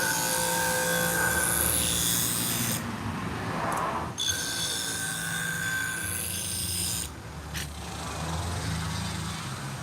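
Sewing shears with a convex edge being ground down on a sharpening machine in a sewing lounge, heavy material coming off; a loud, continuous, close grinding whine with brief easing at about three and seven seconds.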